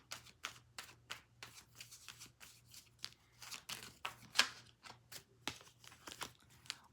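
Tarot cards shuffled by hand in a quiet room, a rapid run of crisp, papery riffles and slaps at an uneven rhythm, close but soft, with no talk.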